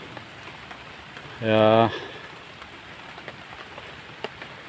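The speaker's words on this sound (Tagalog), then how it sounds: "kasi medyo ito na ulan" Light rain falls on a vegetable garden shaded by banana plants, a soft steady patter throughout, briefly interrupted by a short spoken word.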